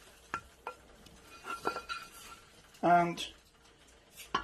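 A spoon stirs chopped mint into yogurt in a bowl, giving a few scattered clinks and one louder scrape, mostly under a person talking.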